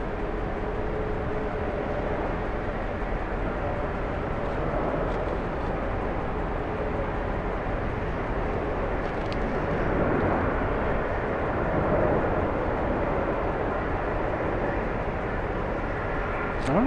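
A Lufthansa airliner passes with a steady, broad, loud engine roar that holds evenly throughout with no voices over it.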